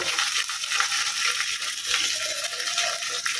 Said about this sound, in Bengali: পেঁয়াজটাকে একটু ভাজা ভাজা করে নিচ্ছি